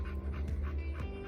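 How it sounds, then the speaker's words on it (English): Jules the dog pants steadily in the heat, a close, continuous rhythm of quick breaths with no talk over it. "The panting in the background you hear is my dog Jules"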